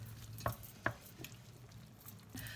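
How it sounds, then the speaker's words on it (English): Sausage stirred back into a tomato cream sauce in a pan, with quiet scraping and two sharp utensil knocks against the pan over a faint, low simmer. "So the sausage is going to go back in to the pan. We're going to mix that up a little bit."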